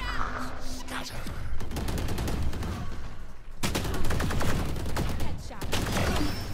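Gunfire from the video game Valorant comes in bursts of rapid shots, first a brief volley and then a denser, louder stretch of automatic fire, with a voice talking faintly underneath.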